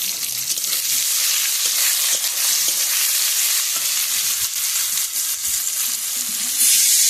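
Potatoes and eggplant sizzle steadily in a hot pan with spices, a dense, continuous frying hiss throughout with occasional stirring scrapes, loud and close, no talking.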